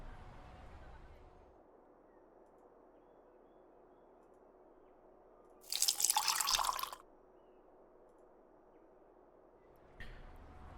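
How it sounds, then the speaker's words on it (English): Water from a kettle pours into a mug in the video game Nook Fall: West Town, a single bright splashing pour lasting about a second against a quiet, still background. "Use the kettle and pour water,"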